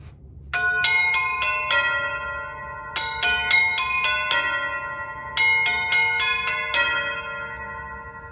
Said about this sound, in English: There is our tubular bells.